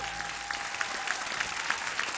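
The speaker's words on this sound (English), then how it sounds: "Please, a round of applause for Mike Hacker back there, everybody." Audience at a 2013 gala applauding an honoree seated at the back, steady dense clapping throughout with a few sharper individual claps standing out.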